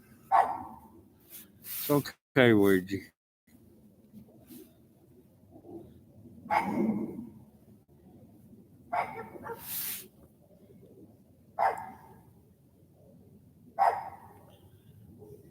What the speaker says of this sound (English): Daggum dog.